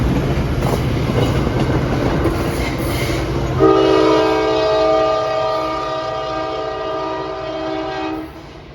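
A commuter train rumbles along, then its horn sounds a long, loud sustained blast that fades near the end, with no talk.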